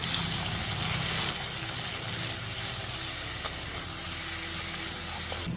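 Ground spice paste of ginger, cumin and dried red chillies frying in oil with potatoes, a loud steady sizzle and hiss that fills the whole span, with no voices.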